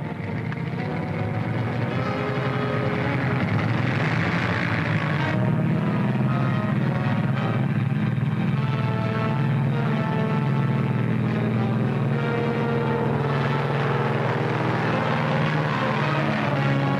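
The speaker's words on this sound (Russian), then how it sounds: "Ладно, взлетаем." Propeller airplane engine in a wartime film, a loud steady drone holding throughout as the plane takes off, with a brief voice faintly heard under the engine.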